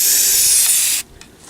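Primer sprayed onto a fiberglass door panel from an S10 project: a loud, steady aerosol hiss for about a second that cuts off abruptly, followed by a couple of faint short bursts.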